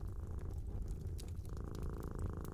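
A cat purring: a steady, continuous low rumble that pulses evenly throughout, close and unbroken, with no talking over it.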